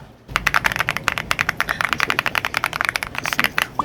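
Fingers tap quickly on a computer keyboard's number pad, a dense run of crisp, close plastic key clicks in an uneven rapid rhythm, with no talking.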